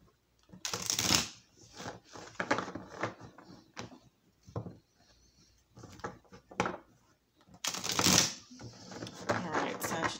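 Tarot cards being shuffled in quick riffling bursts, with bright crisp flutters near the start and again near the end, close up.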